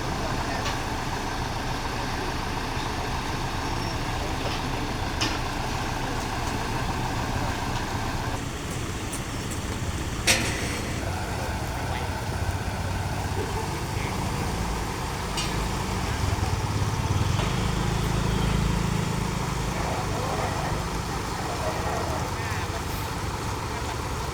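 A backhoe tractor engine rumbles and idles on a bridge while clearing debris from floodwater, steady and mid-distance, with a louder revving swell late on and voices talking over it.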